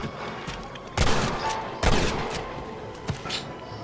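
Gunfire in the western video game Red Dead Redemption: several loud, sharp shots crack out at roughly one-second intervals, with a smaller pop near the end over a steady rumbling background.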